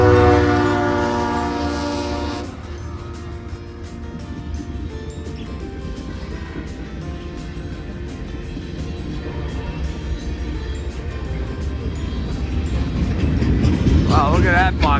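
A CSX freight train with boxcars and lumber cars rolls past near West Point, opening with a loud horn blast, then a steady heavy rumble and clatter of wagons close by, with people talking over it.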